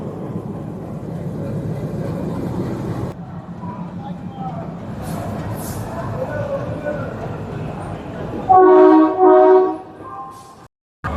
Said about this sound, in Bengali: আমাদের ট্রেন ঢুকছে মুম্বাই মেল,